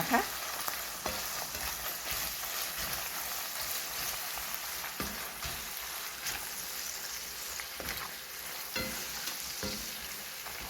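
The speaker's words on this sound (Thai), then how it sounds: "ใส่ลงไปค่ะ เอาไปผัดให้มันนัวก่อ" Bamboo shoots stir-fried in a pan with fish sauce, sugar, oyster sauce and seasoning, for a bamboo shoot and egg dish, give a steady close hiss of frying with repeated scraping strokes of a spatula, no voices.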